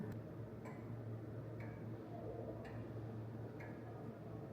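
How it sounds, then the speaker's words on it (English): An old clock ticks steadily inside a museum in Oxford, England, heard close up as a quiet, regular tick-tock against a low hum of room noise, with no talking. "Oh, listen to this clock right here. Let's get a little closer so you can hear it ticking."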